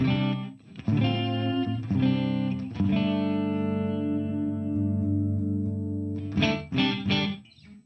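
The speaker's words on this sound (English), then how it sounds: "And then the whole onslaught of reverb." Sustained distorted guitar chords ring out through a TC Electronic Hall of Fame 2 reverb pedal with a heavy reverb wash, notes smearing into long tails before a few sharp restruck chords near the end.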